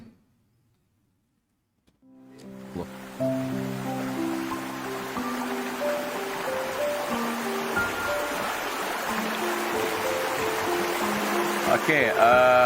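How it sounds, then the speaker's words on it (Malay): A river flows without a break as a steady broad hiss of running water that grows slightly louder. Someone talks over it throughout. "anda semua melihat sungai ni airnya terus mengalir, tak berhenti"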